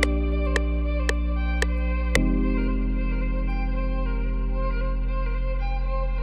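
A violin sample loaded as an FL Studio preset sounds sustained tones with soft attack pulses and heavy reverb, then drops in pitch and rings on steadily, loud and close with no talking.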